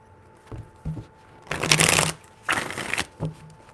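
Tarot cards are shuffled in short, close riffling bursts: a few light flicks, then two louder sustained shuffles and a final quick flick.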